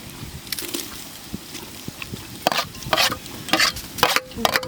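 Tomatoes tossed into sautéed onions for a village-style country chicken curry, with a constant sizzle under sharp, irregular scraping stirs and clatter that come close and loud toward the end.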